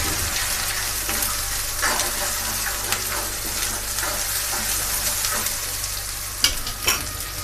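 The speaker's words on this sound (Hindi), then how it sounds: "इसके साथ टमाटर का पेस्ट भी डाल देंगे, इसको अच्छे से मिक्स कर देंगे।" Tomato paste frying and being stirred in a pan while cooking mustard greens, giving a constant close sizzle with scraping spoon strokes scattered throughout and a couple of sharper knocks near the end.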